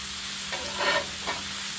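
Pulled pork and onions heating on a griddle give a steady low sizzle, with a brief scrape of stirring around the middle. Nobody speaks.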